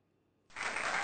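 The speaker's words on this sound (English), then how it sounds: "There's the claps. There's the applause." Applause and clapping from a crowd, bursting in abruptly after near silence and holding steady and loud to the end of the brief clip.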